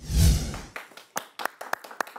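Audience applause welcoming a guest onto a Spanish-language faith testimony show: after a dense burst of sound, a scattering of distinct sharp claps follows, fairly close and uneven.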